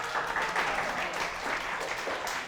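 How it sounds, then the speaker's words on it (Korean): Audience applause in a church or mission talk setting, a steady wash of many hands clapping throughout, fairly close and even in level. "박수."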